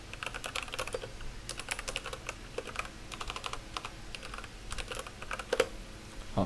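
Rapid typing on a computer keyboard while a filename prefix is entered into a Java GUI renaming tool: dense irregular clicky keystrokes in bursts, close and fairly quiet, with no speech.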